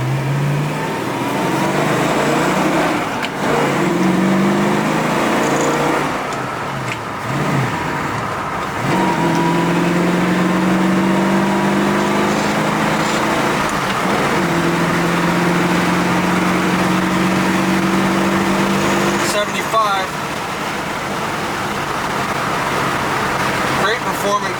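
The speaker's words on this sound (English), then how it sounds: "We'll run it through the gears for you one more time here" A 1966 Ford Mustang accelerates hard through several gears on an open road. Its engine note climbs and drops back at each shift, loud and close throughout.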